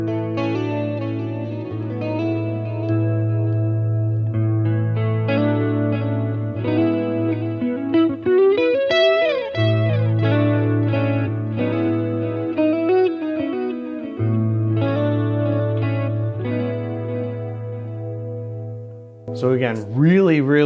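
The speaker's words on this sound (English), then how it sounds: "And here's what my tone stack sounds like." An electric guitar plays through a Boss Katana 50 amplifier with plate reverb on, giving a continuous effected, chorus-like tone with sustained notes and bends that ring out over about twenty seconds.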